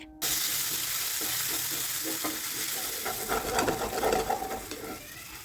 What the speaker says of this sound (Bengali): এখন লো আঁচে এগুলোকে একটু কষিয়ে নিতে হবে।